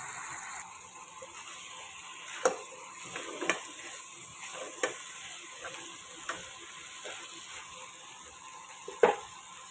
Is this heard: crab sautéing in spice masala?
yes